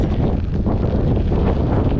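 Strong wind buffets the microphone in wetlands with a constant low rumble and roar, no voices.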